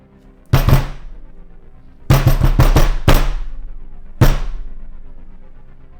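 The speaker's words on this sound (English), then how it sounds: "you hear a thump on the other side of the door" Heavy thumps against the far side of a door, a single blow, then a rapid cluster of knocks, then one more, each loud and booming with a lingering decay.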